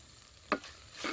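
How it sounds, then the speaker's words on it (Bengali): Mushroom and pea curry with chopped tomato being stirred in a frying pan, two brief scraping stir strokes over a faint low sizzle, no voices. "সবকিছু একটু ভালো করে ভেজে নিয়েছি, এবার দিয়ে দেব টমেটো কুচি"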